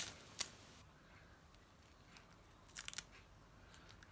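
Scissors snip through a strip in a few quick, faint cuts: one sharp snip near the start, then a short cluster of clipped snips later, over a quiet room with no talking.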